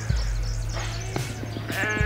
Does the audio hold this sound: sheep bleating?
yes